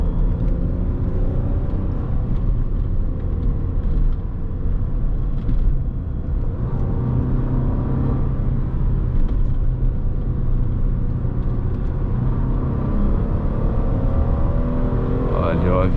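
Heavy Hyundai Azera 2009 with a 3.3 V6 descending a winding mountain road on engine braking, giving a steady low droning hum throughout with someone talking over it.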